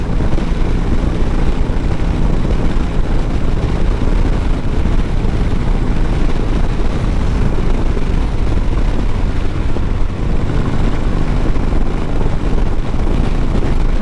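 A Harley-Davidson Sportster 1200 Iron motorcycle cruises in fourth gear on an open road, its engine drone buried under heavy, loud wind rush that stays constant throughout.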